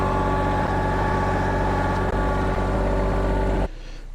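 A tractor engine labours under heavy load while climbing a steep hill, a loud, steady close-up drone with faint rhythmic knocks that drops away abruptly near the end.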